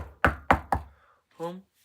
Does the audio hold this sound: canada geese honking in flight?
no